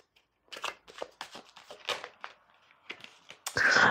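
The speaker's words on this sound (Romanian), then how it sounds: "Scoatem 6 cărți de tarot." Tarot cards being shuffled in quick riffling bursts, close and crisp, ending in a louder sustained riffle.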